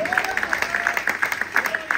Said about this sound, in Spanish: Ven, un aplauso al Señor.